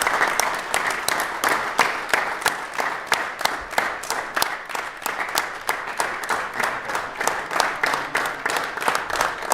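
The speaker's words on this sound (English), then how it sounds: "Let's give a round of applause to Mr." Steady, sustained applause fills a city council chamber as an honoree receives a citation, many hands clapping evenly and continuously for nearly ten seconds with no talk over it.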